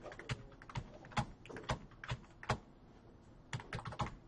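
Rapid keyboard typing, a run of crisp clicky keystrokes in uneven bursts with brief pauses, close and fairly quiet.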